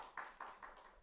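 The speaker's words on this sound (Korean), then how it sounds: "그렇죠. 박수." Church congregation clapping during a service, heard as a few rhythmic, evenly spaced claps, fairly faint and distant, with no talk over them.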